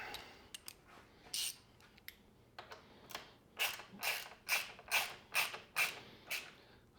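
Repeated sharp ratcheting clicks come from tightening the mounting of a Termignoni full race exhaust on an MV Agusta F4. Bursts start irregular, then settle into about seven even strokes, close and moderately loud.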